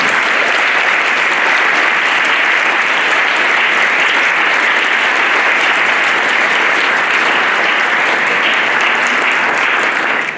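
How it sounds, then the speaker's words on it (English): Sustained applause from a panel discussion audience fills the room, steady and dense without pause for about ten seconds, fading slightly at the very end. "Let's give a round of applause to our panelists."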